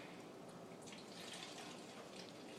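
Vinegar being poured for a baking soda and balloon science experiment, a faint, steady liquid trickle with soft hissing splashes and no talk.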